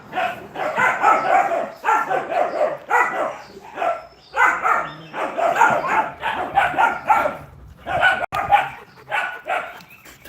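Several dogs barking loudly and repeatedly indoors, rapid overlapping bursts of barks and yips with short pauses between volleys, close and sustained throughout.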